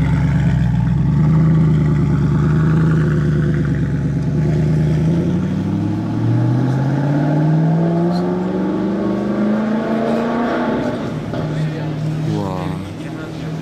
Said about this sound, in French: voici le départ de la deuxième Gran Turismo S grise en question